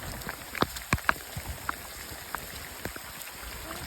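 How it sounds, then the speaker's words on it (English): Heavy rain patters on a surface with scattered sharp drips and splashes over a soft, steady wash. "It is raining pretty heavily."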